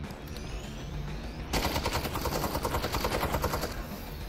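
Sustained rapid gunfire from enemies in the VR game Half-Life: Alyx bursts in after a quieter moment and hammers on continuously and loudly to the end.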